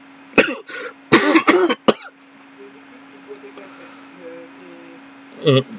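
Several harsh coughs in a quick cluster, then a pause with faint background hum and a final cough near the end, close to the listener.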